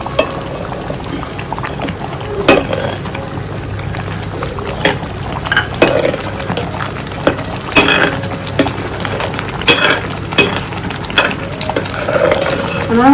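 Semolina is tipped into a hot pan and stirred for ukkarai, a South Indian sweet, giving a steady low sizzle with repeated scraping and stirring scuffs close by.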